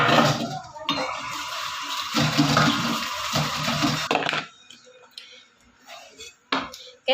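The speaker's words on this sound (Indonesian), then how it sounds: "Oke, sayurnya udah aku cuci," Vegetables being washed under running water: a strong splashing rush for about four seconds, then quieter clinks and handling sounds with brief pauses.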